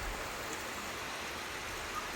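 Heavy rain falls at night over Kollapur town, a steady even hiss of water without clear drops or pauses, faint and continuous throughout.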